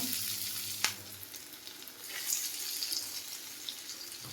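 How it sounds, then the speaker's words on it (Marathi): Alu vadi, colocasia rolls, fry in a small amount of hot oil, giving a soft, even sizzle with faint crackles and one brief clack near the start, quiet and close with no talking. "तेल गरम झालं आहे. आता वडी तळून घेऊ."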